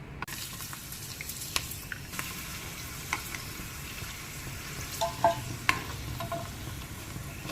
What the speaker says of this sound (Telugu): ఉడియాలు వేయించుకుందాం